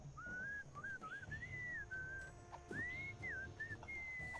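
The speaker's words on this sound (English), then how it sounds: "What is that enchanting whistling sound?" Melodic whistling from the Sam & Max Season 2 remastered game, episode Bermuda Blues: a clear, close tune of gliding, wavering notes in short phrases with brief pauses, over a low game music and ambience bed.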